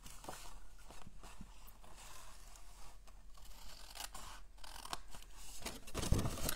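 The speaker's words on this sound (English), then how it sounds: "for these two little flaps, I give them a little bit of a trim so they slide inside easier" Scissors snip the small flaps of a handmade card gift box, faint close crisp cuts and papery rustles in an irregular series, ending in a sharper snip.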